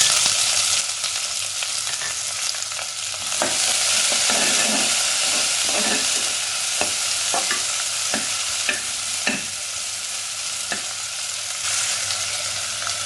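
Sliced onions and bay leaves sauté in a pan with little oil, giving a steady, close sizzle throughout, broken by irregular scraping and tapping as a spoon stirs them.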